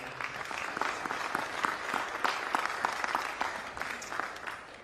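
Crowd applause for a brass band at a pre–Super Bowl news conference in New Orleans, brisk, dense clapping from a moderate audience, steady and fairly close for a few seconds.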